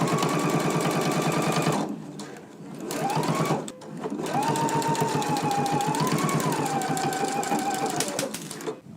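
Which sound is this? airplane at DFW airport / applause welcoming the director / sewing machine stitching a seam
sewing machine stitching a seam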